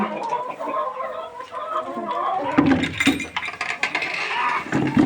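Several hens cluck and murmur together in a busy, continuous chatter, fairly close, in a cold yard, with occasional louder squawks breaking through.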